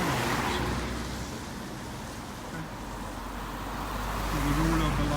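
Cars overtaking on a road while walking the Camino Francés between Rabanal and Ponferrada, a steady rumble of passing traffic that swells toward the end, with faint wind and some talk.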